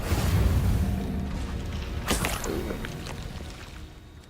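An Incendio fire spell cast in the Hogwarts Legacy video game: a loud low rumbling blast that swells early and slowly fades, with a sharp crackling burst midway and soft whooshing tail.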